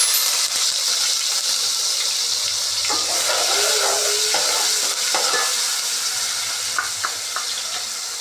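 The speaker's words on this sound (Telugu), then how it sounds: "2 స్పూన్లు ఆయిల్ యాడ్ చేసుకొని ఫస్ట్ ఏంటంటే ఆనియన్ పేస్ట్ యాడ్ చేసుకుందాం." Onion paste frying in two spoons of oil in a pan while cooking Bhimavaram-style chicken pulao, with a steady, close hiss of sizzling and scraping stirs throughout and no talking.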